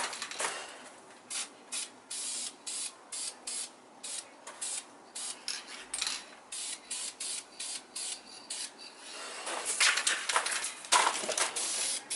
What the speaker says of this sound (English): the process I use to do the spray painting